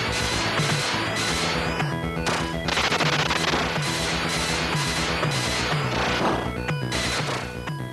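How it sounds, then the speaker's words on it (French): Rapid machine gun and rocket launcher fire from a PC Engine shooter game, dense repeated bursts and blasts layered over constant game music and effects throughout. "À ta disposition, 2 types d'armes, une mitrailleuse et un lance-roquette."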